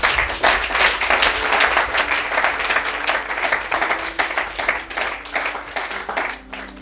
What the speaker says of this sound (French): Acclamons le Seigneur Jésus-Christ